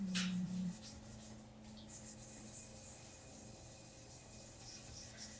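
Quiet, steady rubbing strokes of sandpaper scuffing a lacquered tumbler's hard smooth surface, a soft repeated rasping heard close up with no talking.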